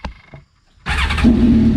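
A Honda Aquatrax R-12 jet ski engine with a straight pipe exhaust cranks and catches, roaring straight into a raw, rough idle after a brief moment of quiet.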